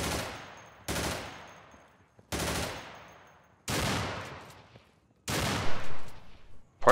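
Gunfire in the tactical shooter Insurgency: five loud, sharp shots spaced roughly one to one and a half seconds apart, each ringing out with a long decaying echo, the last ones arriving in a quicker double burst.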